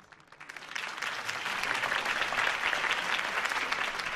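Crowd applause in a Batman video game swells up quickly and holds as a dense, sustained wash of clapping.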